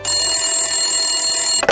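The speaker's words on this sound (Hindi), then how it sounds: "तकरीबन 7 बजे टेलीफोन की घंटी बजी।" An old-style telephone bell rings steadily and loudly without a break, a continuous metallic trill that cuts off near the end, followed by a brief clatter.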